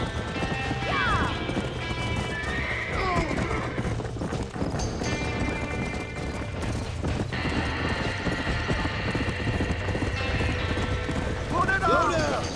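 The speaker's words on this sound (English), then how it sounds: "The barn is on fire!" Horses neigh and whinny in panic inside a burning barn in Red Dead Redemption, with hooves clattering, crashes and shouting voices mixed in over a busy, loud scene.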